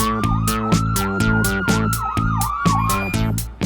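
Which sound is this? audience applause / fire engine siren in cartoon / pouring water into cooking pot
fire engine siren in cartoon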